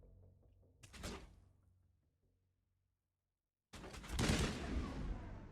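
Gunfire from the Mass Effect game comes in two bursts: a short sharp volley, then near-silence, then a longer, louder stretch of rapid shots.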